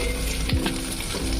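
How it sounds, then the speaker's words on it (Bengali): Black cumin seeds frying in oil over a low flame, a continuous sizzle with scraping stirs of a spoon against the pan and a few short clinks. "আর একদম লো ফ্লেমে এটাকে এখন আমি নাড়িয়ে নিচ্ছি।"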